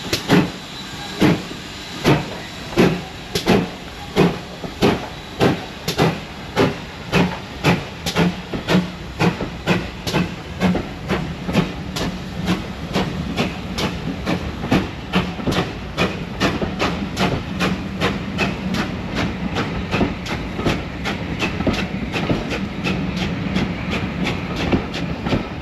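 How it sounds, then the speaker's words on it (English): A steam locomotive pulling Maunsell coaches chuffs past on the Bluebell Railway with loud, regular exhaust beats that quicken and blur into a steady clickety-clack of rolling wheels, with hissing steam throughout. "just arriving with the second service train of the day, pulling a beautiful rake of Maunsell coaches"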